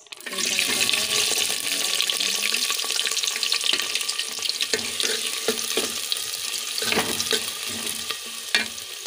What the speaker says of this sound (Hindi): ये घी गरम हो गया है। अब मैं इसमें ये हरी मिर्च और प्याज